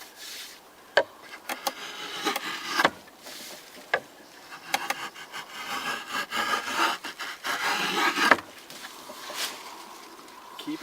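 A wooden paddle blade being shaped with an axe and carving knife, giving steady scraping and shaving strokes along the wood, punctuated by sharper cuts, close and fairly quiet, with faint birdsong outdoors.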